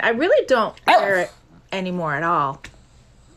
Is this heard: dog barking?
yes